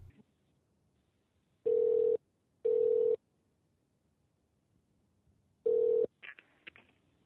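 Three steady ringback tones sound on a phone line during a callback to an organization after an earlier hang-up, each about half a second long with gaps between, followed by a faint clatter as the call connects.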